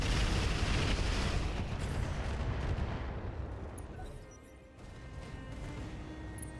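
Heavy weapons fire in the RogueTech game as loud, rumbling blasts and impacts that dominate the start, then fade toward a quieter, crackling tail with no speech.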